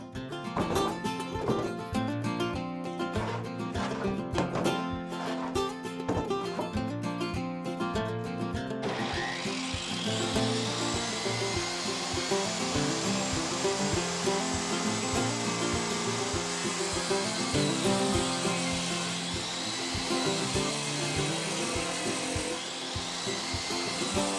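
Power saw ripping Doug fir into 1-inch strips, a sustained whining cut with dense rattling texture that brightens and intensifies partway through and continues steadily to the end, with no voices.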